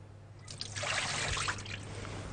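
Hot water trickles and pours into a container for warming a knife before slicing a cream cake, a close, splashy flow that swells and then tapers off.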